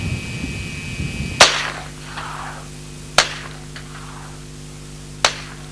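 Three sharp semi-automatic shots from an Alan Halla 1977 experimental low-recoil SMG firing Israeli ammunition at a 100-yard range, widely spaced with long pauses, each a loud crack with a short outdoor echo.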